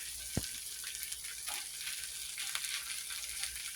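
Steady, soft sizzling from food frying in a pan, with faint crackles and pops scattered throughout.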